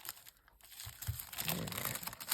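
Paper being folded and creased for book signatures, quiet crinkling and rustling with a few soft crunches that build toward the end, close by and without talk.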